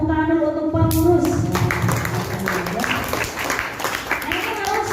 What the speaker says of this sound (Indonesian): Tepuk tangan dulu untuk pengurus